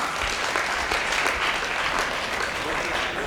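Dense, steady audience applause fills a seminar hall during a health talk in Surat, continuous clapping from a sizeable crowd throughout.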